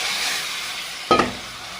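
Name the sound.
katla fish added to sizzling fried spices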